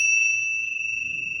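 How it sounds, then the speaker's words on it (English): Tibetan tingsha bells, small meditation cymbals, give one bright, clear ring near at hand that sustains and slowly fades, a pure high tone with a faint upper overtone and no talking. "they're also known as Tibetan cymbals or Tibetan bells, but I'm going to call them the Tingsha Bells"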